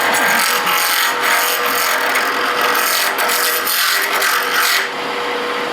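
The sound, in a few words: wood lathe turning acrylic pen blank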